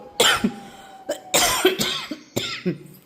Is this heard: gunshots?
no